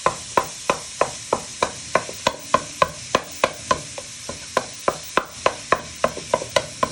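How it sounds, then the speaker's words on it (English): Wooden spoon bashing scouse stew ingredients in a pan, about two dozen sharp knocks in an irregular but steady rhythm, close and fairly loud, with no talk. "So you want to give it a good bash with your wooden spoon"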